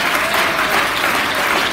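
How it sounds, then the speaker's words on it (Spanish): A Pentecostal church congregation claps in unison, loud, dense applause filling the room for a brief burst. "Fuerte aplauso al Señor."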